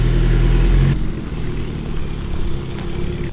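An Alpine A110 engine sounds loud for about a second, then drops to a softer, uneven drone that stays in the background for the rest of the moment.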